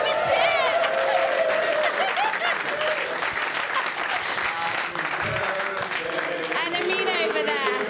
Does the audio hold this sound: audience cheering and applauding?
yes